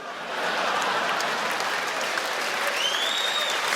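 Steady, dense applause from a large comedy gala audience fills the room, rising within the first half second and holding even and loud to the end, with no talk over it.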